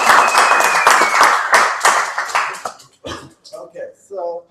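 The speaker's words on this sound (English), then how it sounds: "give him a round of applause" A brief burst of applause for a speaker at a business opportunity meeting in Las Vegas. Dense clapping fills the first two and a half seconds, then thins out and stops as voices start talking.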